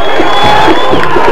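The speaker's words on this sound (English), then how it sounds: "Listen to the crowd." A loud, dense crowd roar and cheer fills the stands at a 1994 high school football game between Hackensack and Paramus Catholic, sustained and close without a break.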